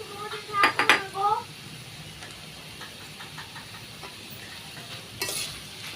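A spoon scrapes and clanks against a pan while stirring snake gourd fry mixed with fried egg and coriander leaves, a cluster of loud metallic knocks early, then quieter scraping and a faint sizzle, ending with one more clatter.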